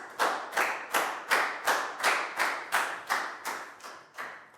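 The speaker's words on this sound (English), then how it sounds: "High five and a big round of applause for Nadia, please, guys." Slow, evenly spaced claps in a Year 4 English classroom, about ten sharp distinct hand claps in steady rhythm with no one speaking, sounding like a small group clapping together in unison.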